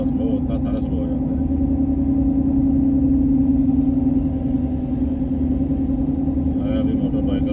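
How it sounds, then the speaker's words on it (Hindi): Road traffic with a motorbike passing inside a long tunnel in Auckland, a steady loud engine rumble and hum filling the enclosed space throughout, with a slight swell in the middle. "अभी मोटर बाइक जा रहा, बाइक लेके।"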